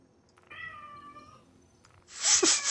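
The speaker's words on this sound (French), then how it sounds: "Vous entendez le chat ou quoi?" A house cat gives one drawn-out, clearly voiced meow close by in a quiet room, followed by a louder, rougher burst of noise at the end.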